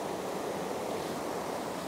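A clear mountain river in a quiet French mountain village in autumn gives a steady, full rush of flowing water that stays even and unbroken from start to finish, with no voices.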